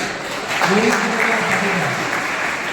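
Applause from an audience at a school annual exam results ceremony, a dense burst of clapping that rises after half a second and carries on steadily, with a voice talking over it.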